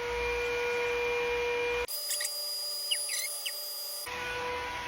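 A handheld hair blow dryer runs with a steady whooshing airflow and a thin whine; midway the tone drops sharply for about two seconds, with faint clicks, before the full blast returns.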